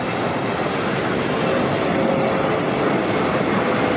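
A Singapore Airlines jet airliner in Star Alliance livery arriving at LAX from Tokyo Narita, a steady, broad roaring rush of engine noise held at an even, fairly loud level throughout.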